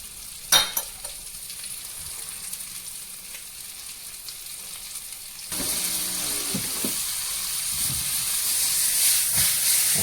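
Oil sizzling and hissing steadily as dough pieces fry, with a clatter near the start and the sizzle growing louder partway through.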